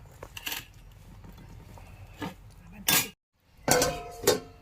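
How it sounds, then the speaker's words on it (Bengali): A metal lid lifted off a pot of raw-banana kofta curry: several sharp clinks and clatters of metal on metal, close and bright, separated by a brief silence. "5 মিনিট হয়ে গেছে, ঢাকনাটা খুলে দিলাম।"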